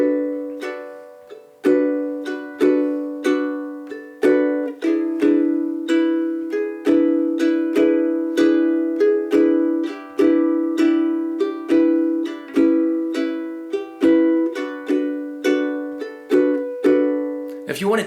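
Ukulele strummed in a bossa nova pattern, with muted ghost strums between accented chord hits in a steady syncopated rhythm, played close and alone through a chord progression with no talking.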